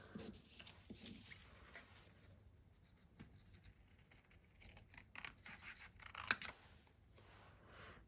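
Scissors cut out a papercraft card piece for a handmade Christmas card, quiet and close, with soft snipping and scraping strokes in uneven bursts and a sharper clip near the end.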